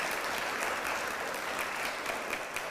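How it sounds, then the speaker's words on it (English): An audience at a panel event applauds a presenter named Martha, with dense, steady clapping from many hands filling the room at even loudness for the whole stretch and no speech over it. "Let's give Martha another round of applause."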